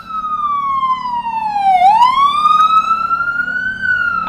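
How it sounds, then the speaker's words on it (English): An ambulance siren wails loudly and steadily as it passes close by, its pitch dipping and then rising again in a long sweeping tone over traffic noise. "there's an ambulance coming."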